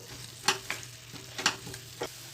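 Vallarai greens being sautéed in a pan for thuvaiyal, with soft sizzling under a few sharp scrapes and knocks of a spoon stirring, spaced irregularly at close range.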